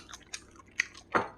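Close, wet chewing and crunching while tasting food with eel sauce: a few distinct bites and squishy chews spaced unevenly, the last one loudest, with no talking.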